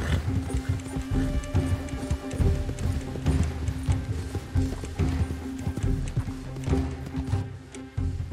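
Rapid horse hoofbeats gallop steadily in Red Dead Redemption 2 on PS4, through a dense, layered mix of low rumbling and bright clatter, loud and continuous throughout.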